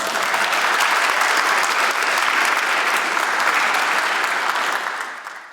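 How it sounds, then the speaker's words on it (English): An audience at an opening ceremony claps loudly and continuously. The dense, even applause fills the room and then tapers off in the final second. "So please, a big round of applause for the people who make all of this possible."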